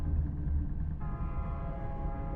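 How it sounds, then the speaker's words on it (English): A train rumbles and rattles along nearby tracks at night, a steady loud low roar with a sustained horn-like tone entering partway through and continuing to the end. "A video shows rattling train tracks at night."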